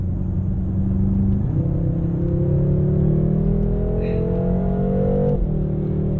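A 2017 BMW M6 Gran Coupe Competition accelerates hard with a loud, steady engine roar rising in pitch through the gears, with two clear shift breaks, heard from inside the car.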